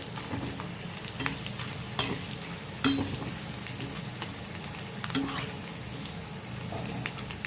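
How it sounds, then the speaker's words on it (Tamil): Sun-dried leftover-rice vathal fries in hot oil, a soft continuous sizzle with occasional stirring clinks and scrapes, fairly quiet and steady, with no voices. "சாதெல்லாம் உள்ளே நல்லா பொரிஞ்சு வரும்"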